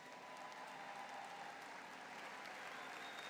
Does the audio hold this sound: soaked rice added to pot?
no